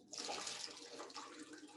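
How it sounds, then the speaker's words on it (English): Water being poured into a glass, a steady gentle splashing trickle lasting under two seconds and ending in a soft knock. "So I'm going to add a little bit of water here."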